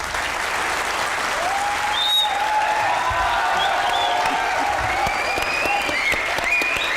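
A studio audience at a comedy talk show claps continuously and loudly, a dense, even wall of applause with a few faint voices and whistles riding above it throughout.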